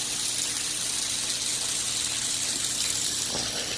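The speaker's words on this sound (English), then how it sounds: "There's the waterfall that's set up there. And nice little spillway." Water gushes steadily over a backyard pool aquascape's waterfall and spillway, a loud, continuous, close rushing wash with no pauses.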